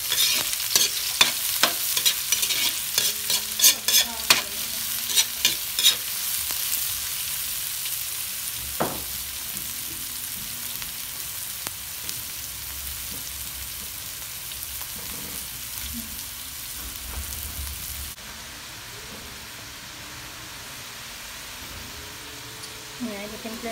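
Onions dropped onto browned garlic in a hot pan, with a loud, bright sizzle and spoon clinks and stirs early on that settle into a steady, softer frying hiss.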